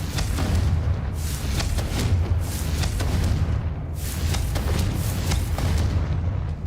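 Repeated Confringo fire spells explode in the Hogwarts Legacy video game, a run of booming blasts with sharp bursts over a steady low rumble, loud and close throughout.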